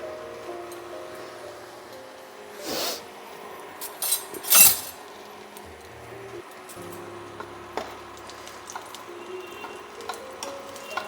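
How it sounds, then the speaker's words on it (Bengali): Two dried red chillies fry in about a tablespoon of oil, a faint, low sizzle near at hand punctuated by a few bright clinks and scrapes of a spoon against the pan, with no one talking. "শুকনো লঙ্কাটা একটু জাস্ট ভেজে নেব লাল করে"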